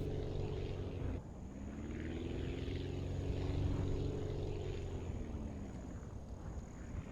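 Propeller aircraft engine in the flight-building game Aviassembly, a steady droning hum with tones that dip and rise as the plane touches down and rolls out, moderately loud and continuous with no talk.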